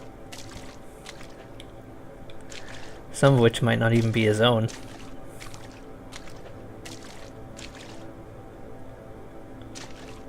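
Water in the horror video game Coma: Mortuary 2 gives a brief wet, sloshing squish, louder than the surrounding game ambience for about a second, while someone talks over it.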